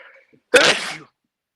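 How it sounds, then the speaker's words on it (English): A single sharp sneeze erupts close to the microphone during a podcast, loud and brief after a faint murmur. "Sneezed all over it."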